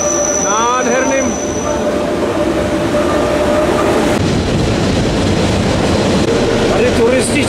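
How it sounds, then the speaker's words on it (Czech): A loud, close train rumbles along the tracks on the Andermatt to St. Moritz line while another passes, with wheels squealing and a rushing roar that swells midway. "Čeká vlak proti směru, se tady zrovna s jedním míjíme."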